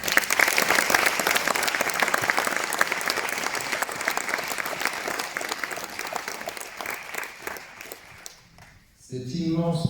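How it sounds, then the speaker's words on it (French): Sustained applause from a ceremony audience at the UNESCO headquarters in Paris for the artist Franta, dense and steady for several seconds before fading, then giving way to a voice at the end. "Vous pouvez déjà l'applaudir"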